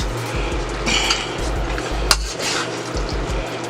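Cashew chicken with toasted cashews being stirred in a pan: soft scraping and clinking of a utensil against the pan, with a sharp knock midway and a low hum beneath.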